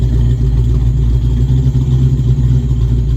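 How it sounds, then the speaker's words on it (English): A Ford Mustang Fox Body engine idles steadily up close, a loud, even low-pitched rumble with a slight mechanical clatter and no talking. "Idling fine."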